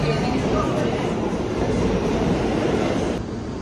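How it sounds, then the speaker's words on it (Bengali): A subway train rumbles through a Manhattan station, a loud, dense roar of wheels and machinery filling the platform and easing slightly near the end. "সাবওয়েতে নামছি।"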